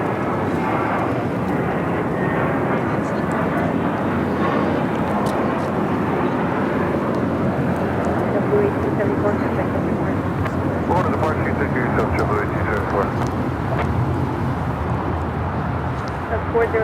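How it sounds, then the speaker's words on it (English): A JetBlue Airbus A321 taxiing at Los Angeles International Airport, a steady jet engine roar that holds level throughout while a person keeps talking over it. "We'll be heading to the 25s as we see this JetBlue A321 heading to, what did I say, JFK?"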